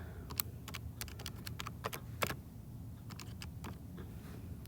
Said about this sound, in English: so when I type this in